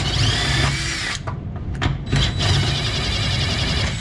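A power drill unscrews bolts on a free trailer under restoration, running loud and close with steady whirring and a few brief pauses and bursts.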